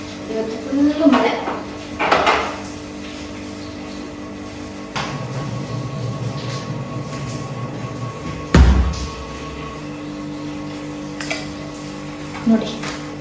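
Dishes and pots clatter and clank in a home kitchen during cleaning, with a few sharp knocks and metallic bangs over a steady background hum.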